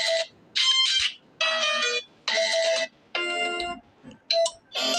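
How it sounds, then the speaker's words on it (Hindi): A Tecno Phantom 9 phone ringtone plays alone: short bright melodic bursts separated by brief gaps, loud and close, repeating in quick succession. "क्लिक करने के बाद आपको कई सारे रिंगटोन शो हो जाएंगे"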